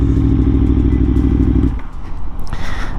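Aprilia Tuono sport motorcycle, 2019 or 2022 model, ridden at speed, with a loud steady engine drone that drops off partway through into a rougher wind-buffeted roar.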